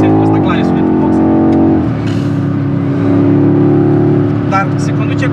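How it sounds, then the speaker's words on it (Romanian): Engine of a BMW X6 M Competition heard from inside the cabin, a loud steady drone that shifts in pitch early on and then holds, with people talking over it. "Mașina se aude frumos, bagă un pic de sunet în boxe."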